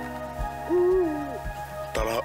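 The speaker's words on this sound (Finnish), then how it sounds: "Täällä on tollanen kuin pöllö." An owl hoots outdoors in spring among other birds, a clear sliding hoot near the middle followed by a shorter call near the end, with background birdsong and low-pitched thumps.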